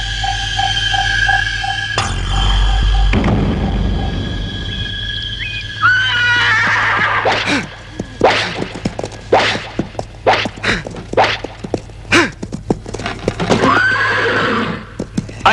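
Horses in a Telugu film scene give a loud, close neigh over a low hum, then hooves clip-clop in quick, irregular bursts, and another whinny rises near the end.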